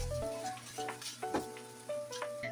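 Pancit bihon rice noodles with vegetables sizzling in a pan as they are tossed and stirred, with clinking of utensil on pan and a tonal ringing over the close, crackling fry.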